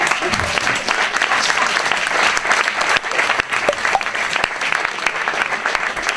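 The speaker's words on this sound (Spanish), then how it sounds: "Un fuerte aplauso." Loud, sustained applause from an audience fills the space with dense, continuous clapping at an even level, close and enveloping, with faint voices mixed underneath.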